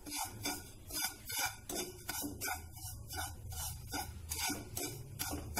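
Semolina and mawa roast in a pan over a medium-low flame for gujiya filling while a spoon stirs steadily, giving rhythmic close scraping and light metallic clinks, with no talking.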